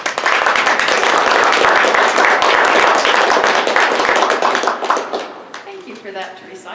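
Audience at a Toastmasters open house meeting applauding, a dense steady wash of many hands clapping that fades out over the last two seconds.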